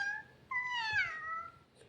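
A child imitates a cat, giving two drawn-out meows in quick succession, the second rising and then falling, close and fairly clear over a quiet room.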